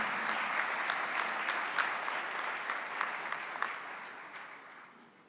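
Audience applause at a provincial tourism career expo in the Free State, a steady wash of clapping from a hall crowd that holds level for several seconds and then gradually fades.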